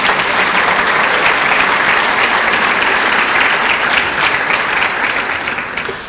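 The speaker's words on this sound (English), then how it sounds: "So if we could give those a round of applause for helping" A seated audience at a chamber of commerce awards night applauds sponsors with sustained, dense clapping that holds steady throughout and tapers slightly at the very end.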